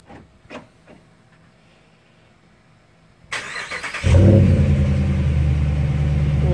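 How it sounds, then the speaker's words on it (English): A 2016 Dodge Ram 1500 with a MagnaFlow exhaust cranks and fires up after a few quiet clicks, the engine catching with a sudden loud burst that settles into a deep, steady rumbling idle. "Let me fire it up for you so you can hear what the MagnaFlow sounds like starting up."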